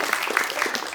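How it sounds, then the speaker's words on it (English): An audience applauds at an event in New York honoring Rohith Vemula, greeting speaker Yashica Dutt. A brief, moderately loud burst of scattered clapping is heard on its own. "a round of applause for the great Yashica Dutt"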